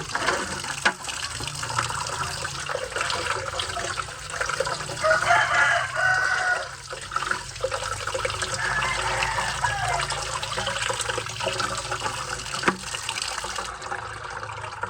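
Fermented grains washed in water as poultry feed, with continuous sloshing and swirling of water, loud and close, going on without pause across the whole stretch; a rooster crows faintly in the background.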